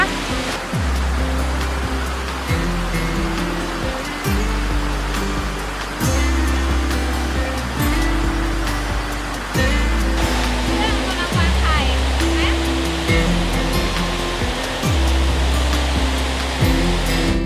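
Sarika waterfall in Nakhon Nayok during the rainy season, a loud, steady rush of falling water that fills the whole stretch, with low rhythmic thuds repeating underneath.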